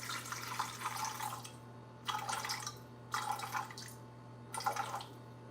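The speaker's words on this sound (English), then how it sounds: "so warm water, not ice water, not scalding water." Warm water poured in several separate bursts while making pizza dough from scratch, each pour a short splashing stream, fairly quiet over a steady low hum, with no talking.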